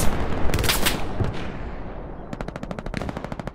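Machine gun fire in the WWII shooter Hell Let Loose: a loud sustained burst at the start trails off, then a sharp, rapid string of evenly spaced shots rattles out at close range, with no talking.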